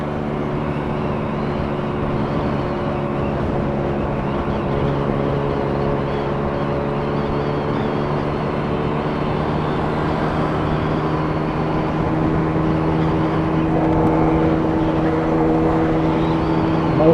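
A 1968 Fuji Rabbit Hi Super 90 scooter engine idling, a steady close-up putter with even low harmonics, holding constant for the whole stretch with no voices.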